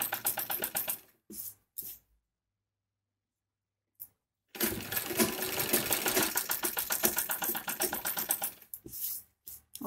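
Sewing machine stitching piping onto the back panel of a kurti made from leftover fabric, running in two short bursts, then a pause, then a long steady loud run with a brief stop near the end.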